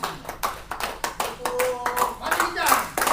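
Group of participants at a teachers' curriculum workshop clapping hands together, a run of sharp, fairly loud claps in uneven rhythm with brief talk mixed in.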